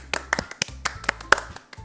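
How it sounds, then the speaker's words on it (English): Four characters in the Doki Doki Literature Club video game applaud briefly, with a few sparse, uneven handclaps rather than a full ovation. "The four of us applaud."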